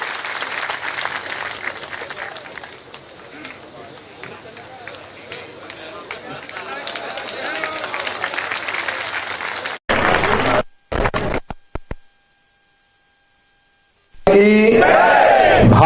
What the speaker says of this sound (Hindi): जोरदार तालियों के साथ स्वागत करें माननीय शिवराज सिंह जी चौहान साहब का।